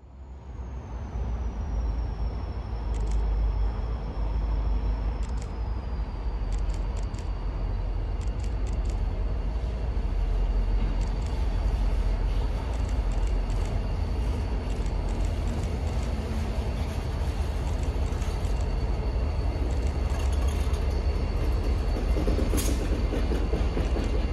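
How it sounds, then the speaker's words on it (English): A switcher locomotive rumbles along slowly at night with a steady low drone, faint rail squeals and occasional clanks, heard from close by in a quiet setting on the Grand Junction line in Cambridge, Massachusetts. "the conductor unlocks the switch and the switcher begins moving east"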